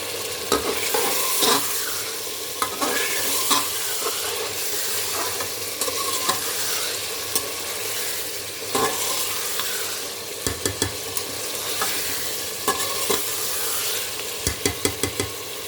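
Ginger-garlic paste with cinnamon, cardamom, black pepper and cloves fries in a pan with a steady sizzle, while a utensil scrapes and stirs in repeated close, sharp strokes throughout.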